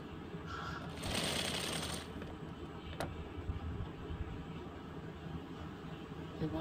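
Sewing machine stitching a lined blouse: a quiet, steady mechanical whir that swells briefly into a faster, busier run, then settles back to a low hum with a single sharp click partway through.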